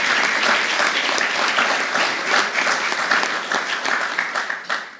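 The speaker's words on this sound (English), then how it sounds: "Can we give them a round of applause for what they did?" An audience applauds members of a county sheriff's department at a budget address, steady, dense clapping from a large crowd that fills the room and continues throughout without pause.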